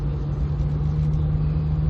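1993 Proton Saga Iswara 1.5 MPi automatic fitted with a raspy motorcycle exhaust, heard from inside while driving as a steady, droning engine hum over low road rumble.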